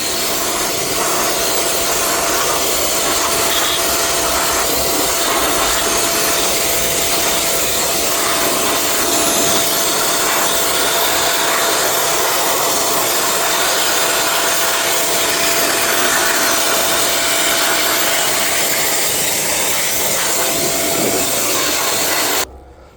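Compressed air blasts dust out of a car engine's intake during carbon cleaning of the intake valves, a loud continuous broadband hiss that holds steady for over twenty seconds before cutting off abruptly at the end.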